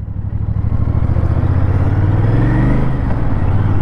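Royal Enfield Interceptor Bear 650 scrambler motorcycle riding and turning, its engine a loud, close, steady thrum with a slight rise in pitch partway through.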